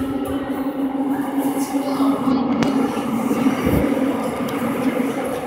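A Seoul Subway Line 6 train pulling into Korea University Station, a loud, close rumble of wheels and motor with a sustained hum, brief squeals and clanks on the track as it arrives.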